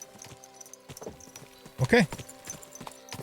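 Horse hooves clip-clop at an easy walk in the video game Kingdom Come: Deliverance 2, a soft steady patter with a louder snort or whinny near the middle, while someone says a single word.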